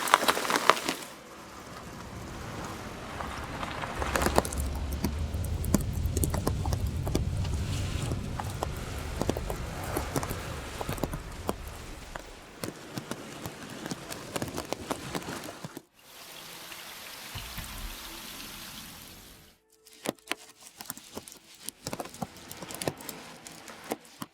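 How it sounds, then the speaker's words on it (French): Heavy rain pours and patters on surfaces through a summer night of carp fishing in Sologne during a storm, a loud, steady downpour with a brief drop in intensity toward the end and no talking. "parce que là il pleut sévère"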